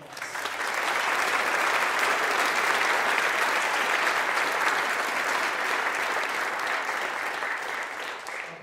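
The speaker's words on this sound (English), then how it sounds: "Let's give them a round of applause." An audience at a Christmas concert with a choir and band breaks into loud, sustained applause that rises quickly, holds steady for several seconds, then eases slightly at the end.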